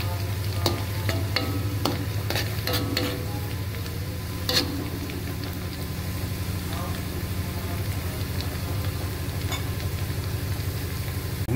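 Onions sizzle steadily in hot oil in a pan for Indonesian beef soup, with intermittent scraping and clinking of a spatula as they are stirred, close by and moderately loud.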